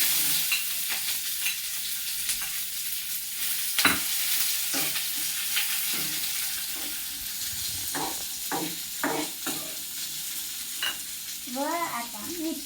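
Onion sizzles in a pan of hot oil with curry leaves, a constant hissing fry broken by repeated scraping stirs, close and steady.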